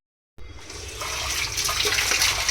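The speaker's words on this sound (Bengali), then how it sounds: "তো চলো আপেলটাকে ধুয়ে নিয়ে আসি।" Tap water runs steadily into a sink while an apple is washed under it, a continuous close splashing hiss that starts abruptly and holds at even loudness, with no talking.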